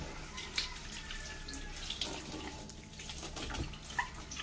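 Fresh vegetables rinsed under a running kitchen tap: a steady, quiet stream of water splashing with small irregular spatters, close by and with no talking.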